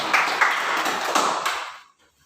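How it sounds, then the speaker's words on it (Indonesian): A classroom of students briefly applauding a presenting group, a dense burst of clapping lasting under two seconds before quickly fading to silence, with no talking. "Tepuk tangan dulu untuk kelompok 3."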